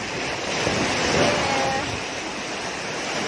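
Sea waves breaking on the Egyptian coast, a continuous close wash of surf swelling slightly in the middle, with wind buffeting the microphone.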